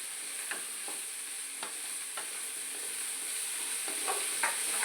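Onions sautéing in a pan make a soft, continuous sizzle with a few light scraping strokes of stirring, close and fairly quiet, with no voices.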